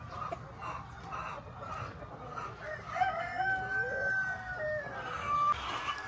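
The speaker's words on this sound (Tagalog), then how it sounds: "So check lang nato kadyot ang mga manok," A Brahma breeder rooster crows on a farm, several drawn-out calls rising over a clucking flock and low background noise, fairly close.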